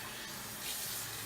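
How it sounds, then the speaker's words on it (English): Cool water runs steadily from a tap in a home sewing and embroidery setting, a soft continuous splashing hiss close by with no talking. "I'm just going to run some cool water."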